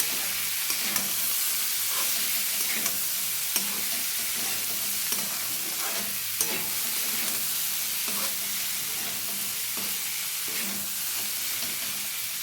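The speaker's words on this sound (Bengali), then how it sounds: "এইভাবে আমি বেশ কিছুক্ষণ এটা নাড়তে থাকবো" Chana dal and radish are stirred in a hot pan, a constant close sizzle broken by regular scraping strokes of the spoon at an even rhythm, with no talking.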